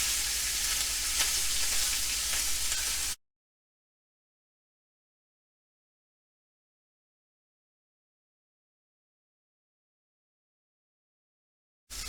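A tomahawk beef ribeye steak sears in a hot pan, giving a loud, steady sizzle for about three seconds before the sound cuts off abruptly into silence.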